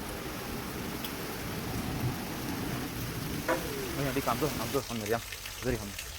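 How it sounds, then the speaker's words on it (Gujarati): Soft continuous rain hiss runs throughout, and partway through a voice starts speaking over it. "ધીમેધારે વરસાદ વરસી રહ્યો છે"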